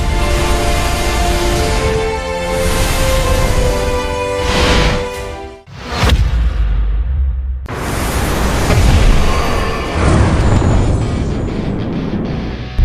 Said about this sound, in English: Impact confirmed. Main cannons hit the target.